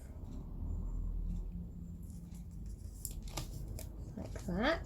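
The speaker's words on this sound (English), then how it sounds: "I'm going to peel the backing off" Backing film being peeled off double-sided sticky tape wrapped around a stick while making textured metal earrings, a close crackling rip in short bursts near the end, with a person speaking briefly over it.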